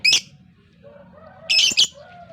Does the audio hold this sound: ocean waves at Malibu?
no